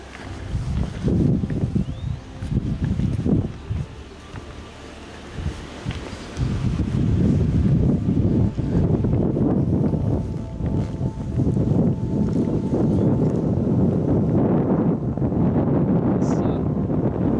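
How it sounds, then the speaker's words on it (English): Wind gusting across a French harbour town, buffeting the microphone in loud, continuous rumbling waves with rustling, steady through most of the stretch. "Sun, the wind just going through your hair."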